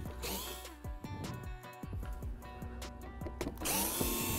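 A power driver backs out T15 fasteners from the rear section of a Corvette C8 front fascia, with several short whirring bursts and ratcheting clicks close up, sounding alone without talk.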